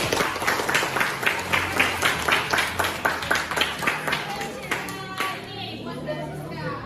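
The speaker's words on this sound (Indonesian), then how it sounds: "Oke, kita kasih aplaus dulu." A classroom audience applauds after a student's presentation, a steady, dense clapping from many hands that thins out toward the end, with some voices mixed in.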